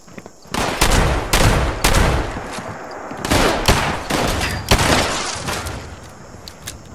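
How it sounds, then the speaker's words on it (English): Bursts of gunfire in Fallout 76 crack out loudly in rapid volleys and single shots, several sharp close reports spread across the stretch, fading toward the end. "who's shooting at me?"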